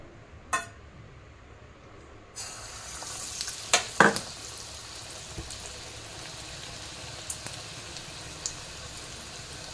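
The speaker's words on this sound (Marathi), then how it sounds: "इकडे कढईमध्ये तेल गरम झालेलं आहे, आता आपल्याला भजी बनवायला सुरुवात करूया" Coriander bhaji fritters frying in hot oil in a kadhai: a steady close sizzle and crackle begins after a short quiet start, with a few sharper pops and spatters partway through.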